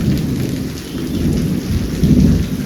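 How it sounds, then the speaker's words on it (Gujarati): Heavy monsoon rain pours steadily with deep rolling thunder rumbling underneath, loud and close throughout, with no voices. "અમે કડાકા ભડાકા સાથે ગાજે વરસાદ જો"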